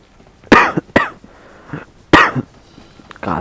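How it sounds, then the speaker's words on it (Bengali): Coughing heard up close as loud, raspy bursts: a pair of coughs, a pause with faint background sound, another strong cough, and a softer one at the end. "কাশি আসতেছে বেশি যে পরিমাণে"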